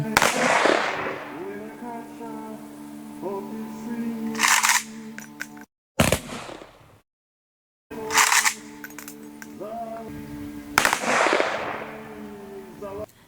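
Sharp ceremonial gunshot cracks fired into the air by soldiers at a memorial ring out at intervals outdoors, each followed by a brief echo, with a stretch of silence between volleys.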